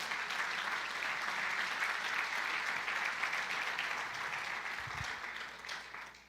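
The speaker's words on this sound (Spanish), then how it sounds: "Démosle un aplauso al Señor por eso." A church congregation applauds with dense, sustained clapping that stays fairly even, then slowly fades over the last second or so.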